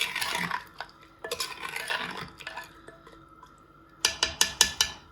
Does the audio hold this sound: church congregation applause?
no